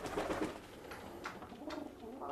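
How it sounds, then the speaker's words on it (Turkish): Angut pigeons coo in low, soft, repeated calls among rustling and other close-range bird sounds, with no speech. "O Angut güvercinleri şimdi getiriyor."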